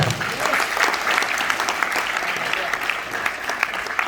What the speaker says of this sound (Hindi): मैं चाहूंगा जोरदार तालियां मनोज सर के लिए।